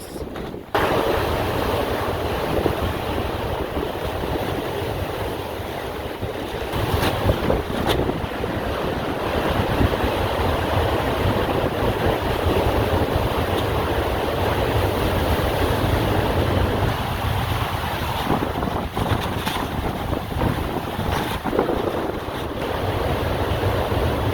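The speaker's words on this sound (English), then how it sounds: "I'm just enjoying watching the waves right now" Continuous roar of ocean surf breaking and washing in, with heavy wind buffeting the microphone throughout and no talking.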